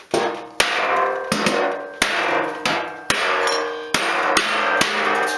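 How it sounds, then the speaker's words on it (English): A panel hammer strikes a dent in a vintage metal fuel can about seven times at a steady, unhurried pace, each sharp ringing tap fading before the next, close and loud. "All I did was use my panel hammer and just go like that."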